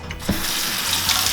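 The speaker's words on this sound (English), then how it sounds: "Make sure you rinse your chickpeas well" Tap water runs steadily into a sink, rinsing canned organic chickpeas in a home kitchen while making simple hummus; a continuous close splashing wash with no talking.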